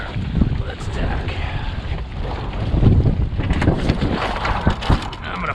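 A sailboat tacking upwind, with steady wind buffeting and water noise around the hull throughout and a busier, louder stretch as the boat turns; no one speaks.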